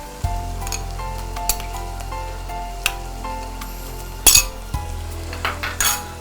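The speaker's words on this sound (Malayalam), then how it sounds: "ഇഞ്ചിയും വെളുത്തുള്ളിയും കൊച്ചുള്ളിയും ഒക്കെ ഒന്ന് മൊരിഞ്ഞ് വരട്ടെ" Ginger, garlic and shallots sizzle steadily in a pan for mutton biryani, with occasional sharp clinks of a spoon or utensil against the pan, close and moderately loud.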